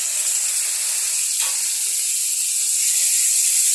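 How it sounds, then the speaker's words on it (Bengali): Onion paste sizzles in hot oil for a rohu (bowal) fish-head chachchari, giving a steady, close, loud hiss throughout with a brief scrape of stirring partway through. "এখানে দিয়ে দেবো পেঁয়াজ বাটা।"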